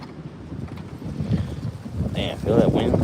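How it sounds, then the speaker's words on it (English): Wind blows outdoors at a spoon-carving spot, a steady low rumble of gusts buffeting the microphone that builds in strength, with a voice speaking over it. "Man, feel that wind?"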